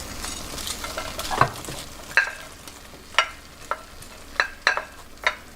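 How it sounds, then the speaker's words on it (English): Jalapenos and onions stir-fried in a pan for tamarind crab, a steady soft sizzle broken by a series of sharp utensil clacks and stirring scrapes at irregular intervals, close and clear with no talking. "And now I'm gonna stir fry my jalapenos and onions"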